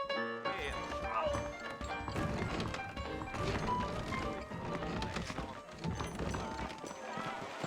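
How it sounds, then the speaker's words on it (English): Horse hooves clip-clop at a steady trot in Red Dead Redemption amid busy game sound effects and music, with occasional thumps and a brief whinny. "I got the horses saddled up and ready out front"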